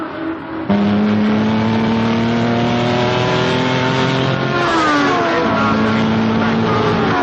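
Racing car engine at full throttle during a race, a loud sustained drone with a clear pitch drop midway as it shifts or lifts, running alone throughout.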